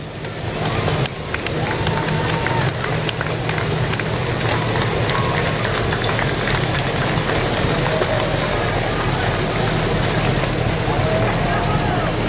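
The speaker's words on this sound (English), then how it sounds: "this was the first tractor that they got" An old restored tractor, the first one a family owned, rumbles steadily at slow parade pace through a holiday parade, its low engine drone continuous and fairly loud with crowd noise and people talking around it.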